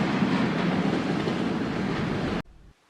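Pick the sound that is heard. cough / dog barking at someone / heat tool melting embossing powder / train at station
train at station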